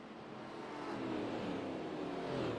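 Race cars on a speedway circling under caution behind the pace car, a distant, even engine drone that swells slightly, with no voices.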